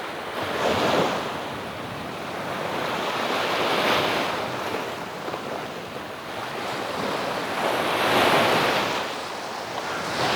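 Rough sea surf rolling onto Davutlar beach on the Aegean coast, loud swelling waves cresting roughly every four seconds amid gusting wind noise on the microphone, with no voices.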